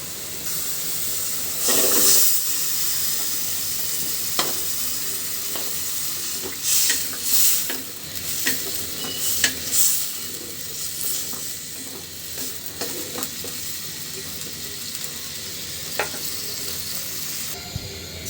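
Pumpkin pieces fry and hiss in oil spiced with well-cooked masala and black cumin, a steady sizzle under repeated scraping stirs from a utensil, close and moderately loud, with no talking.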